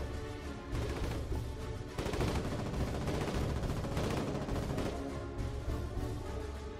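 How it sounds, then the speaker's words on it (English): A medium machine gun in the war game Foxhole fires continuously in a dense, steady stream of rapid shots that stays fairly loud and unbroken for several seconds. "For medium machine guns, the Colonials get the Ghast, and the Wardens get the Malone Mark II."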